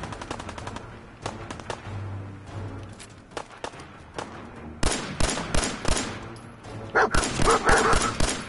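Dogmeat, the dog companion in Fallout 4, barks amid rapid bursts of gunfire, with sharp repeated shots dominating and a burst of firing near the end.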